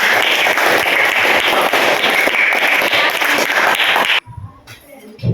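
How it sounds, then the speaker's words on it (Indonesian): A class audience claps enthusiastically for a group's presentation of their discussion results, loud dense clapping that cuts off abruptly, leaving faint voices and shuffling. "Kita beri tepuk tangan yang meriah untuk kelompok 3 yang sudah memaparkan hasil diskusi mereka"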